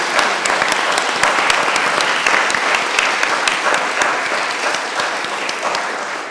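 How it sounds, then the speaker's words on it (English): A lecture audience gives a sustained round of applause, many hands clapping in a dense, loud, even roar that tapers slightly toward the end. "Let's have a wonderful round of applause for Sophia"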